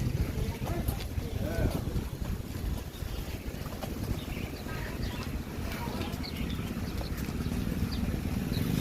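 Busy pier at Laem Kruat, Thailand, as people walk to board a boat bound for Si Boya island: steady wind and water wash with low engine rumble and scattered distant voices throughout.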